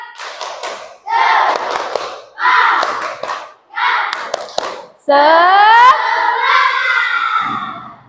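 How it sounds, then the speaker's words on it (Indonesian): A classroom of children performs a rhythmic cheer clap, chanting and clapping together in four short bursts and then one longer, loud, sustained shout. "Tepuk semangat."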